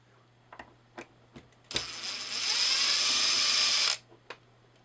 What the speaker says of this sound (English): I'm cheating with the drill